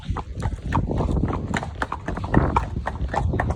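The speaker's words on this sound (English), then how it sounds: "Sandy, my horse is sticking. Go on, Sandy." A horse out on a hack on a road, its shod hooves clip-clopping steadily and close by in an even walking rhythm, with a soft voice faintly beneath.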